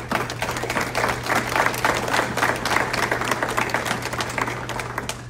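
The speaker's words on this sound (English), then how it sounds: "let us give them a warm applause" Sustained applause from a crowd at a US citizenship oath ceremony, dense steady clapping throughout with a low constant hum underneath.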